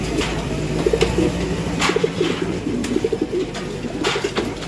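Racing pigeons coo in repeated soft, throaty bursts close by, over a low steady background hum.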